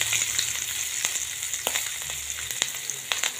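Two chopped red chillies sizzle in hot oil with popped mustard and cumin seeds, the base for a potato filling for jar dosa; a steady, close frying hiss with scattered sharp crackles and no talking.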